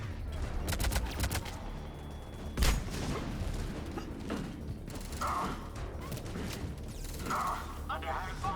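Gunfire in a Mass Effect firefight, with a dense string of sharp shots and a heavy thump near the three-second mark, layered with game noise and voices talking throughout.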